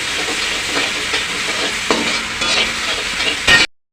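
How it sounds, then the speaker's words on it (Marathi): Vegetables stir-fried in a hot pan for veg Schezwan fried rice, a steady loud sizzle with scraping and tossing sounds from the spatula, then a sharp clatter before it cuts off. "आता मी हे परतून घेते दोन मिनटं चांगलं परतून घेते"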